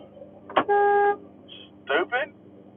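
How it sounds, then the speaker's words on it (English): A car horn honks at a driver in traffic, a short blast followed by a longer sustained toot, then a couple of quick beeps, with a voice talking around it. "Why you're freaking honking at me?"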